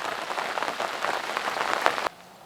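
Rain patters on a fishing lake at Linear Fisheries Tar Farm, a close, steady crackle of drops on water and surfaces that cuts off abruptly near the end.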